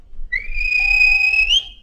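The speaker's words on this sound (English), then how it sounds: "and the guard whistled," Railway guard blowing a whistle at a station, one sustained shrill tone lasting over a second, loud and close with a slight pitch rise at the end.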